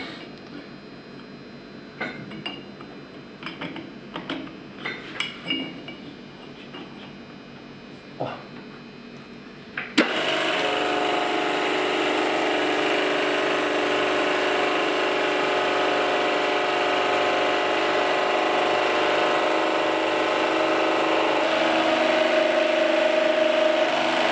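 A machine grinds a KM5 quill, a steady broadband grinding roar that starts abruptly partway through and holds loud and constant, following a stretch of quieter workshop clatter and knocks.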